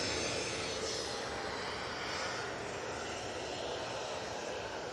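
Ryanair Boeing 737-800 arriving at Manchester Airport: a steady, broad jet engine roar heard from a distance, constant in loudness throughout with no voices.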